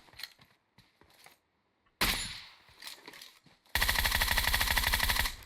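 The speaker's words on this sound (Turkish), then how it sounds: "Kim sıkıyor? Nereden sallıyor?" Gunfire in PUBG Mobile on Georgopol hill: scattered single shots and bursts at first, then a sustained rapid automatic volley that fills the last seconds, loud and close, with no talk.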